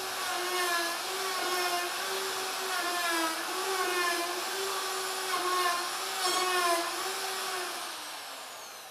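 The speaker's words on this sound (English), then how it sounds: "Place your router above the joist and between the two boards. Now you can cut both boards above all the joists in one pass." A router plunged above a joist between two deck boards cuts grooves into both boards in one pass, a loud high-pitched whine that rises and falls slightly as it moves along, fading at the end.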